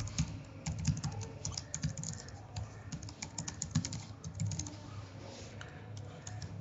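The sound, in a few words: typing an email address on a computer keyboard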